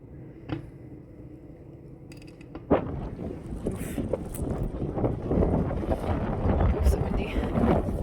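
Gusty wind buffets the microphone with a low rumble that swells and grows steadily louder, while a few brief knocks sound early on.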